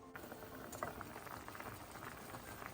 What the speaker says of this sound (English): our ravioli has been boiling actually about a full 10 minutes